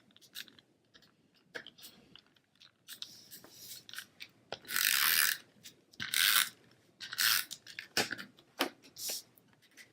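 Snail adhesive tape runner rolled across Flirty Flamingo cardstock, giving a series of dry ratcheting clicks and short rasping bursts at close range, with louder strokes through the middle and no talking.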